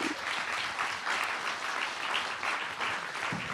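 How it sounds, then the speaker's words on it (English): A crowd applauding steadily, dense continuous clapping that holds even throughout. "one big round of applause for our organizations"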